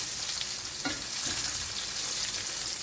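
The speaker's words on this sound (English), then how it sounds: "wait for this thing to stop sizzling" Steady, loud sizzling and crackling of steak frying in butter in a hot pan, continuous throughout with faint spatters.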